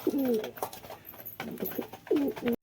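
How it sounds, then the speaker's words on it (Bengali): Pigeons of mixed breeds kept at a home loft coo softly and close by, a few rounded, rolling calls spaced across a short stretch with light rustling between them. "এরকম দু চারটে পায়রা বাড়িতে থাকলেই খুব সুন্দর লাগে"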